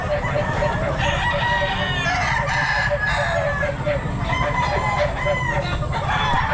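Stag rooster at a busy pet market, crowing loudly amid clucking fowl and dense crowd chatter throughout.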